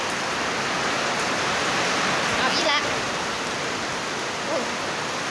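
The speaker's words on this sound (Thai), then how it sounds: "ฝนตกแล้วจ้า" Steady rain falls outdoors, a dense continuous hiss of drops on surfaces that holds at an even level throughout, with a person speaking briefly over it.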